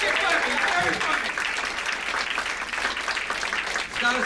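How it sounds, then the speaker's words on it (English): A comedy club audience applauds a stand-up comedian with sustained clapping that fills the room, while a host talks over it. "Let's clap for him. Keep clapping."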